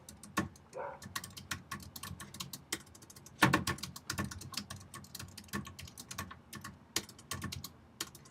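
Rapid keystrokes on a computer keyboard as a message is typed, an uneven run of close, crisp clicks with a heavier burst of taps midway, and no voice over them.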